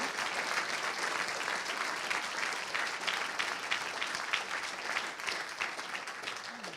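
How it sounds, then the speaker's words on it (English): An audience applauds steadily, a dense wash of clapping that holds for several seconds at an even level. "I would like a round of applause for"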